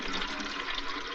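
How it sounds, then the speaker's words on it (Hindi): Water runs steadily from a tap into a container, a constant close splashing hiss with no voices heard. "पानी भर लूं।"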